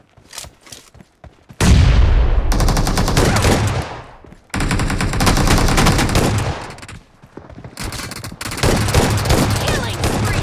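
Gunfire in the mobile battle-royale game PUBG Mobile, loud close shotgun and rapid automatic bursts that come in long sustained volleys with brief gaps, dominating the clip.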